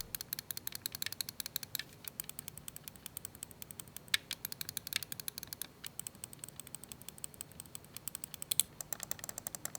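Side buttons of a Dareu A950 Pro mouse give short, dull, sluggish clicks, repeated rapidly and steadily, close and fairly quiet, with no voices.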